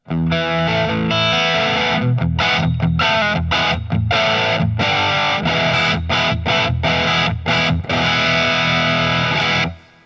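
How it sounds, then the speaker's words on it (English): Electric guitar played through a Silverface Fender amp set for a tweed-style driven tone, with loud, dense distorted chords and riffs that ring continuously for about ten seconds, broken by brief choppy stops before a final sustained chord cuts off. "it's more of that Fendery tweed kind of driven sound, even though this is technically a Silverface amp"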